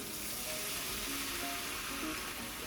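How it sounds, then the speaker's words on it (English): Butter melts with flour roasting in a pan for flaxseed ladoo (alsi ki pinni), giving a steady, close sizzle and frying hiss that runs unbroken the whole time, with no talking. "First of all, we'll add butter. As the butter is melting, we will add flour"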